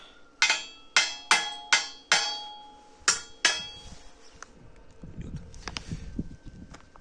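Seven sharp ringing hammer blows on metal land in a quick, even rhythm while building a walk-behind tractor trailer, followed by softer shuffling and handling noises.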